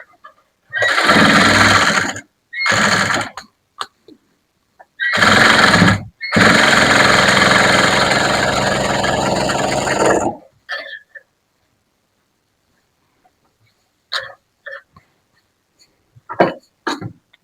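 A sewing machine stitching a blouse runs in several loud bursts, the longest lasting a few seconds, then falls quiet apart from scattered small clicks and handling sounds.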